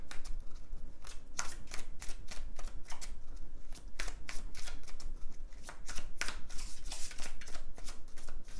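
Tarot cards shuffled by hand in quick, repeated riffles and flicks, close and crisp, going on steadily without any talk.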